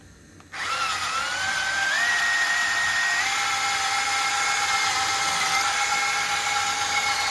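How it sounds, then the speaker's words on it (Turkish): A small electric food mixer motor whirs on abruptly and keeps running at a high, steady whine, its pitch shifting slightly as it works. "evet mikserde geçireceğim şimdi bunu"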